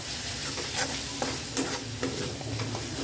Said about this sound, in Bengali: আমি আরও ভালোভাবে 1 মিনিট এটাকে নেড়ে নেব।